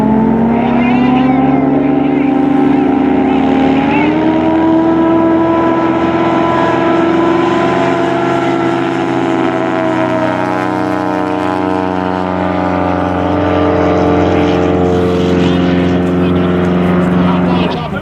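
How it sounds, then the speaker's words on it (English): A Yamaha-powered Just Aircraft Highlander plane roars at a STOL drag race, its propeller engine droning loud and close with a steady rising pitch, while an announcer talks over it throughout. "Yamaha powered just aircraft Highlander"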